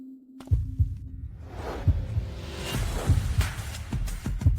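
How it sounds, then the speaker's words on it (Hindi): A heartbeat sound effect thumps in a steady double-beat rhythm, low and close, layered over a soft whooshing wash with no speech. "मेरे दिल की धड़कन।"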